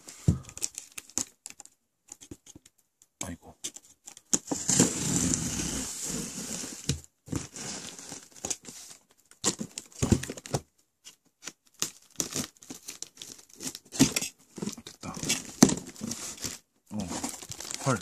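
The PS4 Call of Duty Infinite Warfare Legacy Pro Edition package, a box about 60 cm long, is unwrapped up close with bursts of crinkling and tearing plastic and cardboard, broken by short pauses of near silence.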